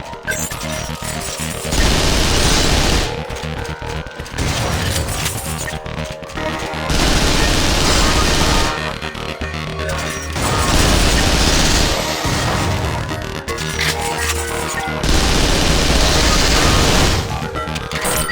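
Heavy gunfire from the Vanquish video game, loud sustained bursts of automatic fire and crashing impacts in repeated waves with short pauses, mixed with game music and voices.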